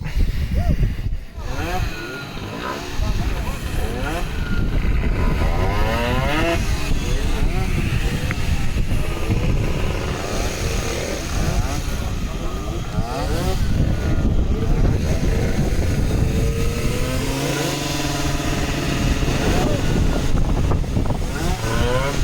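A pedal-started moped engine sputters and runs on steadily and loudly up close for a long stretch, its note wavering and rising in bursts of revving, with wind buffeting the microphone.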